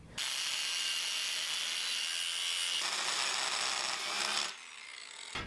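Work-hardened, welded steel from a rocket stove build being cut, a continuous harsh, bright grinding rasp close up that holds steady for several seconds, then stops abruptly and leaves a quieter hum.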